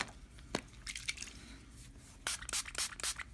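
Water is dabbed and squished onto a paper towel for watercolor painting, producing faint, close wet taps and soft rustles in scattered bursts, clustered toward the end, in a quiet room.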